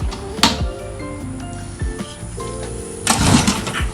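A small outboard motor is being pull-started, with brief mechanical bursts and rattles as it tries to catch, ending in a rougher stretch of sputtering that never settles into a steady run.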